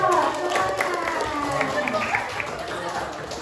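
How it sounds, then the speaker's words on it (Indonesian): A school class applauds the winning group with a steady spread of handclaps, heard at moderate distance while students chatter over it. "Kita kasih tepuk tangan dulu"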